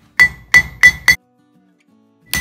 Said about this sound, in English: they're shaped with a hammer.